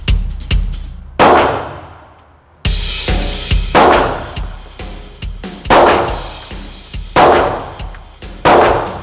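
Sig Sauer P320 pistol shots fire one after another at close range, loud sharp cracks with ringing tails, spaced irregularly with a brief pause near the start.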